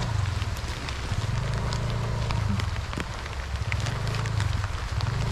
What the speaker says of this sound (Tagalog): Maulan po talaga, grabe.